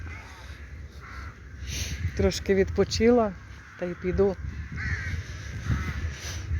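A crow caws several times in a row, loud and fairly close, in two short bursts of harsh calls while someone talks over and between them.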